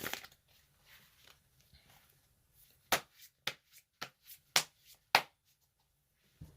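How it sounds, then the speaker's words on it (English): Gilded Tarot cards being shuffled by hand, a string of sharp, close riffling snaps and soft card slides with irregular pauses, heard alone. "So I'm going to shuffle the cards."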